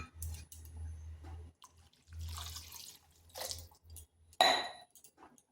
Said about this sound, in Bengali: দিয়ে দিচ্ছি বাটি ধোয়া জলটা। এখানে আর একটু জল দেব।